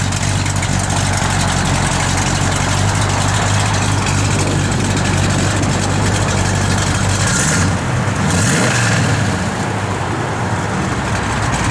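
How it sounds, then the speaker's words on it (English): The V8 engine of a 1969 AMC AMX idles with a deep, loping rumble, loud and close, holding steady with a slight dip in pitch near the end. "Car's got great sound to it"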